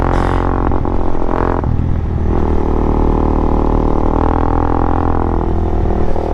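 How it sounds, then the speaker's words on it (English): A motorcycle engine runs steadily and loud throughout, a continuous close rumble with slight revving variations and no talk over it. "Yeah, that bike's running great."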